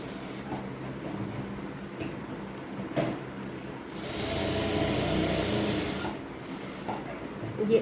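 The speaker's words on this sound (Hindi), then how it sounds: "ये एल शेप में सिलाई लगाई हमने" A sewing machine runs a stitched L-shaped seam on ladies' pant fabric in two bursts, a short whir and then a longer steady run of several seconds, close and moderately loud with light handling noise between.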